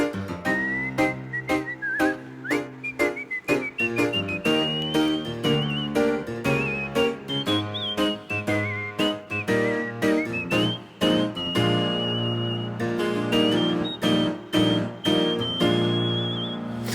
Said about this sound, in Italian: Ah, questo se lo fischietta.